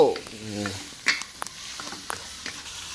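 Pad kaphrao, a Thai basil stir-fry, sizzles in a pan with scraping stirs and clinks of a utensil, brief and close, after a voice sings a short line.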